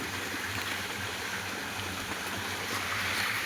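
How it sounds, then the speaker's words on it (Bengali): A small stream on a hill runs into a mini waterfall, producing a steady, even rush of splashing water close by that continues unbroken throughout, with no voices over it. "এই যে দেখতে পাচ্ছ সতটা বয়ে আসছে এই দিকে ছোটো মোটো। আর এখানে একটা মিনি ঝর্ণা মতন হয়ে গেছে"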